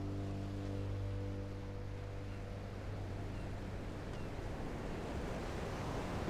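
Surf washing onto a beach, a steady continuous roar of waves with wind noise across the microphone and a low hum underneath, no voices.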